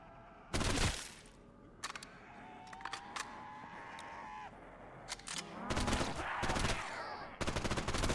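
Gunfire in a VRChat zombies game, a few sharp bursts and single shots scattered among quieter clicks and mechanical handling noises, close and fairly loud.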